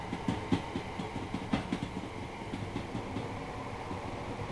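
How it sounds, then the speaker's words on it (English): Train wheels clatter rhythmically over rail joints amid a continuous rumbling ride noise, heard from inside a moving London commuter carriage running from Selhurst into Victoria, in a train simulator. "Just love the sound of the tracks."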